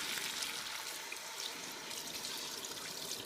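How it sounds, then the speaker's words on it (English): Beef stock pours into a pan in a soft, steady liquid stream, quiet and continuous for a few seconds with no talking. "So all we're going to do now is add beef stock."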